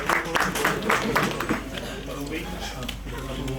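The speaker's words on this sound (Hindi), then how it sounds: "बहुत जोरदार तालियां" Audience applause at a dealers convention in Islamabad, with a burst of clapping in the first half that thins out, mixed with voices talking over the crowd noise.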